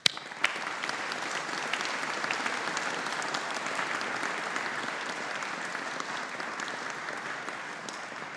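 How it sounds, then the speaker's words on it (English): A graduation ceremony audience at a business school claps steadily for families and friends, a sustained dense round of applause from a large crowd that holds even throughout. "let us take this opportunity to show our appreciation and gratitude with a round of applause for your family"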